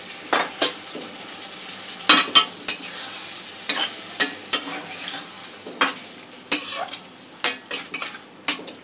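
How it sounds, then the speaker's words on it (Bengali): Spice masala for chicken jalfrezi being stir-fried with a splash of water, a spatula scraping and clacking against the pan in irregular bursts over a steady low sizzle, close and fairly loud with no talking. "সামান্য একটু জল দিয়ে আমি মশলাটা আরও মিনিট 5 একটু কষিয়ে নিচ্ছি"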